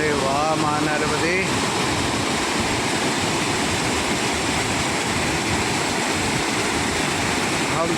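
Dhuandhar waterfall on the Narmada river roars as a dense, steady wash of falling water that fills the whole clip, with a voice speaking briefly over it at the start.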